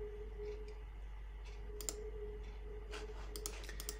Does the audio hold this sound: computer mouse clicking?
yes